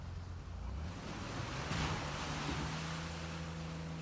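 Quiet, soft wash of water waves in the Uncharted 4 video game, a low steady rushing swell that builds slightly midway, with no voices.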